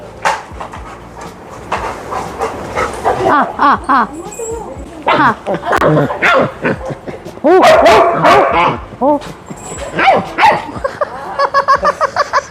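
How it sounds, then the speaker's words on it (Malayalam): A Labrador puppy barks and yips repeatedly up close, in uneven bursts, mixed with whimpering and people talking nearby. "ഡോഗ് ലിയോ, അത് സമ്മതിക്കില്ല"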